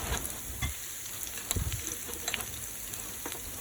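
Ground jeera and coriander spices sizzle and fry in a pot of oil for a South African beef curry, a steady close crackle with occasional sharper pops and stirring sounds, no voices.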